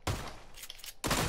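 Video-game gunfire in two loud, rapid bursts of shots separated by a brief, quieter gap.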